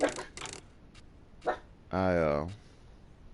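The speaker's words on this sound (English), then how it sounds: "I apologize for my dogs barking." Pet dogs bark indoors in a few short, close bursts, followed by a longer whining yelp.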